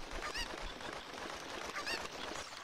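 Goose-like honking squawks from a bird in The Legend of Zelda: Ocarina of Time Master Quest, two bursts of harsh calls over a steady game-noise bed, fairly close.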